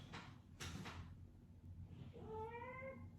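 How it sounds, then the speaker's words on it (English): A cat meows once, a rising, tonal call near the end, faint and somewhat distant, after a few soft rustling sweeps. "My cat is meowing in the background."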